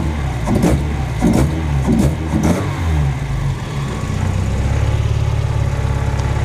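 1991 Mazda Eunos MX5 with a 1.6 engine revving in several quick blips that rise and fall sharply, close and loud, before settling into a steady idle.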